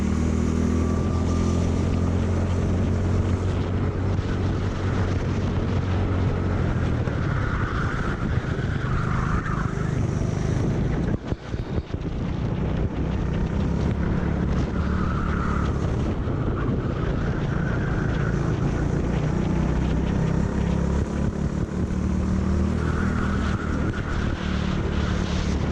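A racing go-kart at Red Lodge Karting in a youth Youngstarz class round, engine droning loud and steady through a fast lap, pitch rising and falling through the corners, heard up close on board and alone.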